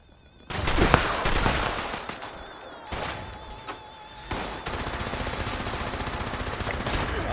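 Gunfire in the video game Fallout 76: sharp loud bursts of rapid automatic shots in separate volleys, ending in a sustained stream of continuous fire, with no talk.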